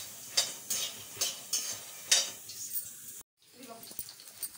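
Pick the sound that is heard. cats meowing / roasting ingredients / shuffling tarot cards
roasting ingredients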